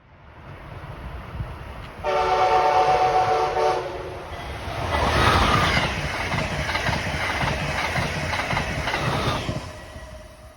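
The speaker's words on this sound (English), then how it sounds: "moments later, an Acela raced around the corner" A train horn blares, then an Amtrak Acela high-speed train roars past nearby with a rising rush of wheels and wind that holds steady before fading.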